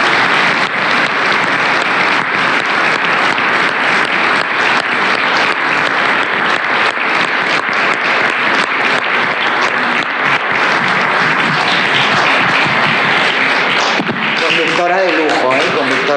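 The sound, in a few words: audience applause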